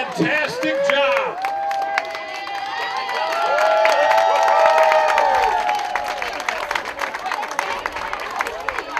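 An outdoor crowd at dragon boat races claps and cheers for the racers. Shrill whoops and shouts rise over sustained applause that swells in the middle and then thins into scattered clapping, with voices mixed in.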